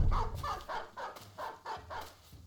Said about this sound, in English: hopefully the dogs can go ahead and finish chasing this boy down